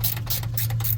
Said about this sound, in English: So I got a ratcheting wrench here. I gotta tighten it up